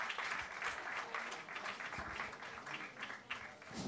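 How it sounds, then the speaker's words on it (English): An audience claps at the close of a session at a school growth and marketing conference, Edves Catalyst 2017. Soft, distant, continuous applause from a hall audience runs evenly throughout with no voices over it. "Please, let's appreciate them with a clap"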